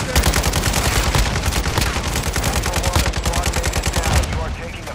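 Rapid automatic gunfire from a video game shooter match, dense rhythmic bursts of shots close and loud for nearly the whole clip, with voices briefly audible under the shooting.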